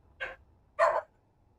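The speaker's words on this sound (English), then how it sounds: "And the dog just keeps on howling" A dog gives two short barks, the second louder and longer, close by and alone with a quiet pause between them.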